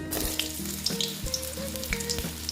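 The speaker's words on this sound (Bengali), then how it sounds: "ভেজে নেব পটলগুলো" Pointed gourds (potol) fry in hot oil, a close steady sizzle dotted with sharp spitting pops and a low hum beneath.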